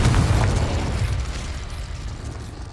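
A Confringo spell explodes in Hogwarts Legacy with a loud, booming blast that hits at the start, then rumbles and slowly fades over nearly three seconds.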